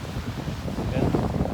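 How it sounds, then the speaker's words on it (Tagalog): Steady wind buffets the microphone at the seaside in the Maldives, a continuous rushing roar that swells slightly toward the end, with faint voices underneath. "It's windy."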